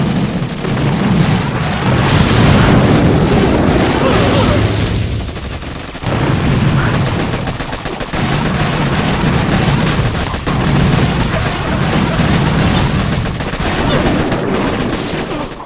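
Rocket launcher fire in the naval strategy game Boom Beach Warships: dense, continuous booming and explosive barrages, loud and close, with brief lulls between volleys.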